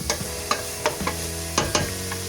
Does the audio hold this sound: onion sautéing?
yes